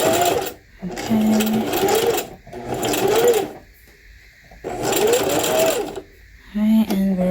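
A sewing machine stitches a hair weft bundle, its motor whirring loud and close in several bursts with short pauses between them as it reverses and runs forward again. A voice speaks briefly near the end.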